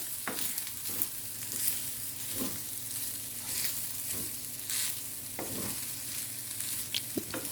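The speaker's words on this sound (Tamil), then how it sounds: "இப்போ நம்ம மிக்ஸ் பண்ணி விட்டுக்கலாம் அந்த வெங்காய மசாலாவோட" Rice being stirred with onion masala in a pan over low flame, soft scraping and light sizzling with a few clinks of the spoon, quiet and close.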